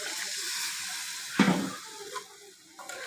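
Water is poured into a pan of beef and potato curry that has been cooking in oil, giving a short splashing burst over a soft background sizzle that then settles.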